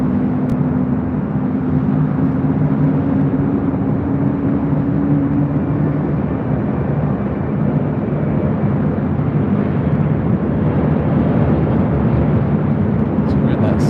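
A Finnair Airbus A350-900 airliner at LAX produces a loud, steady jet roar with a low droning hum, sustained throughout, with crowd voices faintly mixed in.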